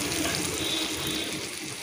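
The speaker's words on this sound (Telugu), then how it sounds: "ఒక అరకప్పు వాటర్ పోసుకోవాలి." Half a cup of water poured into a hot pan of goat brain curry, a loud, steady splashing and rushing pour lasting the whole short moment with no speech.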